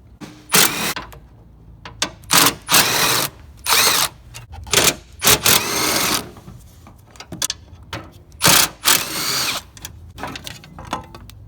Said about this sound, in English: remove the 4 10mm bolts that hold on this bottom bracket